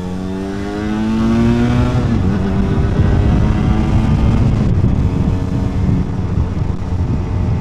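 An Aprilia RS 125 two-stroke motorcycle revs up under riding, its engine pitch climbing steadily before settling into a loud, buzzing run with wind rush, heard close and with no talk.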